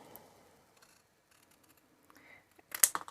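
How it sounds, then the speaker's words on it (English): Scissors trimming paper pieces to size for a handmade masculine greeting card, heard as a few faint, sparse snips followed by a louder, sharper cluster of cuts near the end, with no talking. "I can just trim those off with some scissors"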